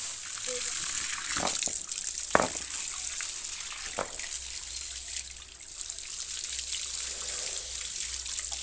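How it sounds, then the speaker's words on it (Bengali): Fruits being washed in water by hand, with splashing, trickling and sloshing sounds at close range and a few sharper splashes, set against a steady background hiss and occasional faint voices. "চলো, তো চলুন আমি এই ফলগুলো এখন ধুয়ে নিই।"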